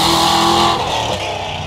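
A supercharged 1969 Chevelle engine revs loud and close, a thick roaring blare that eases slightly as the revs fall away.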